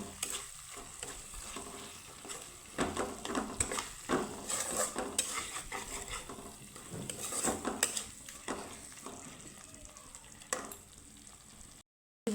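Masala sizzles with potato in a pan while a spoon stirs and scrapes in steady strokes, close and moderately loud, then the sound cuts off abruptly near the end.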